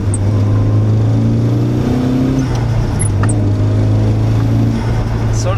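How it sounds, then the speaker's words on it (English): Nissan 180SX Sileighty four-cylinder engine pulling hard under acceleration, a loud, steady in-cabin drone whose pitch rises, dips at a gear change, then climbs again. "That engine makes some pretty good noises for only being a 4-cylinder."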